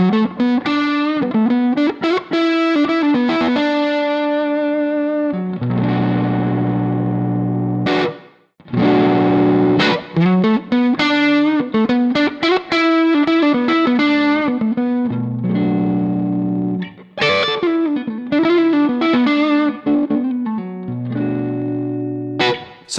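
Electric guitar runs through the high-gain red drive channel of a tube amp, playing loud distorted riffs and chords with a saturated, sustained tone and brief pauses.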